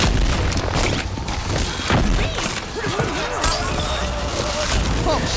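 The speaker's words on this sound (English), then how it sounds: "I almost died to the grenades." Grenades go off in Overwatch amid a dense, chaotic battle din, with heavy booms and crashes layered over constant game effects and voices talking throughout.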